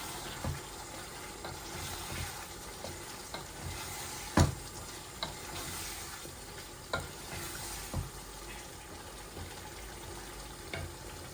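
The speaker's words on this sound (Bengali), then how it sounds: "আমি আনা সল্টে তরকারিটা ভুনা করতেছি" Chicken curry being fried down in a pan with a spatula: a quiet, steady sizzle broken by repeated scraping stirring strokes at irregular intervals, one louder clank, no speech.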